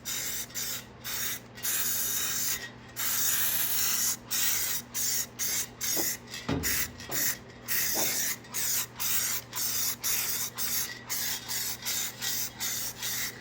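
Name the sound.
spray paint can spraying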